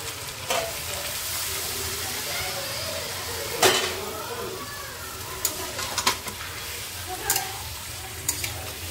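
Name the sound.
water added to sizzling half-cooked mixed vegetables in pan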